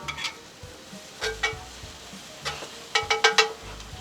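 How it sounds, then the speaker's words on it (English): Chopped garlic stirred into softened onions in a frying pan, a soft sizzle under a series of sharp utensil scrapes and clinks against the pan, coming in quick bursts, with no talking. "Now it's time to just get that chopped garlic in there and give it a stir"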